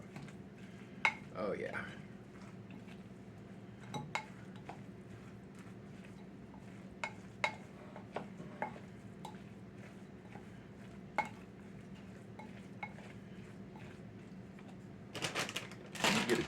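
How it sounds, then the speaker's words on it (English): Stuffed acorn squash is mashed in a bowl, heard as scattered soft thuds and clicking taps of the masher at an irregular pace, close and fairly quiet, with a brief spoken remark. "Get this all mashed up."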